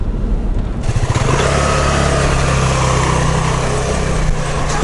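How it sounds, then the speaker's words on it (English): Vespa scooter engine idling steadily up close, a buzzy small-engine drone that rises into a higher, more even running pitch after about a second and holds there. "we'll unload the Vespa and take it around the block for a little joyride"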